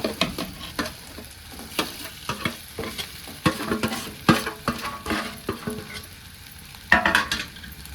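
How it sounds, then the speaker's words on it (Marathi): Grated potato with chillies frying in oil and being stirred, a loud close sizzle broken by repeated scraping and clattering strokes of a spatula in the pan, with no talk. "आपण यात किसलेलं बटाटा टाकून घेऊया"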